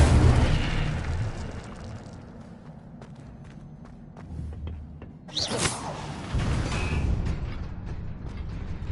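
An Incendio fire spell blast in Hogwarts Legacy: a loud opening boom fades into quieter clicks and shuffles, then a sharp whooshing burst of flame erupts midway and lingers as a rumbling roar.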